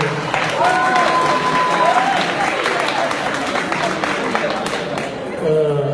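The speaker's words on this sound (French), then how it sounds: "Applaudissez très très fort pour ces jeunes." An audience at a university speech bursts into lively applause, a dense, steady clapping that fills the room, with a voice speaking over it near the start and end.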